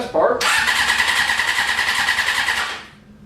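The starter motor on a Honda CBR600F3 motorcycle being built as a stunt bike cranks with a close, steady whirring for about two seconds, then winds down and stops without the engine catching.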